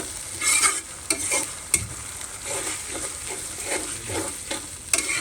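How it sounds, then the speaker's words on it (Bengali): Ginger and garlic paste sizzles in a hot frying pan while being stirred, with scraping strokes of the spoon over a steady crackling fry, close and alone. "একটু ভেজে নেব আমি একটু আদা রসুনটা বেশি খাই"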